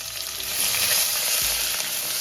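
Steady, close sizzling of two finely chopped medium onions frying in hot oil, with a brief low stirring thump partway through; no voices.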